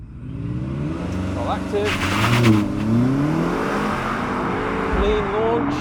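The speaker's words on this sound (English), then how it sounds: "Let's see what the launch is like in this LCI." A 2024 BMW X6M Competition LCI facelift making a hard launch from standstill, its engine revving loudly and rising in pitch through the gears with tire and wind roar, and a brief spoken phrase from inside the cabin.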